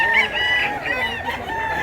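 A rooster close by gives a short, strained crow blended with throaty clucks, loud and near, in a brief burst without talk.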